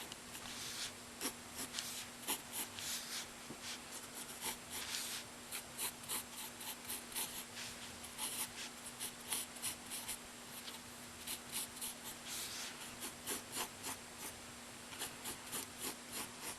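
Pen or pencil drawing manga sneaker laces and a bow on paper, a soft, close scratching and rubbing of the tip in short repeated strokes, steady and quiet throughout with no voices.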